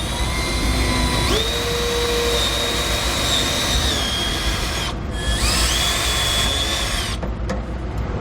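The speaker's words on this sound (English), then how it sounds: "we'll take a small drill bit and drill our pilot holes" Power drill fitted with a small bit whines as it bores pilot holes in a floor for a D-ring tie-down anchor, rising in pitch as it spins up, pausing briefly, then drilling again loud and close.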